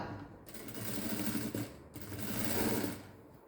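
A sewing machine stitches piping with a small border strip, running steadily and close with a continuous mechanical whir and two brief pauses, with no talk.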